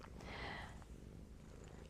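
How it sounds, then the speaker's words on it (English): A cat purring while being petted, a soft, steady low rumble heard close and quiet, with a brief brighter rustle near the start. "I'm going to pet this cat for a little bit"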